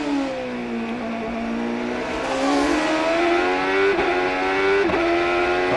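A CART open-wheel race car engine drones loudly during the 2003 Vancouver street race, a sustained high-pitched whine whose pitch dips and climbs again as the driver shifts and accelerates, dominating the sound throughout.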